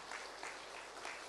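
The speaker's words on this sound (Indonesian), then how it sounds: "berikan tepuk tangan buat Tuhan yang luar biasa" A faint, brief burst of congregational clapping during a church service, soft and distant with a loose, pulsing rhythm.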